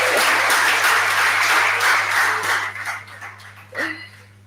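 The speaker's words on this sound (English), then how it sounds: "Please, a round of applause for myself." Audience applause at an HIV prevention conference in a hall, a broad steady clapping wash that fades and thins toward the end, with a brief louder burst near the close; a low constant hum sits beneath.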